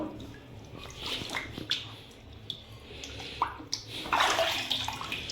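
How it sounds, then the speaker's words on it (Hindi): Water splashing and trickling as an ankle is washed, with irregular close splashes and a louder burst of pouring near the end. "अब मैं इसको पानी से धो लेती हूँ।"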